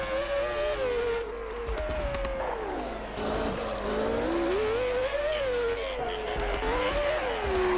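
A race car in New Star GP limps along with a blown engine, its synthesized motor droning and wavering up and down in pitch continuously and loudly throughout, with no talking over it.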